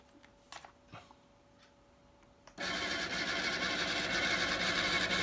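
An AlphaCom thermal printer attached to a Sinclair computer prints a listing: after a few faint clicks and quiet moments, a loud, steady buzzing print noise starts and runs continuously to the end.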